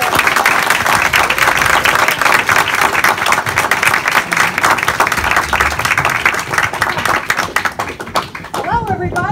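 A comedy club audience claps and applauds steadily as a comedian takes the stage, a dense, loud wash of clapping hands that tapers off near the end as a voice begins speaking.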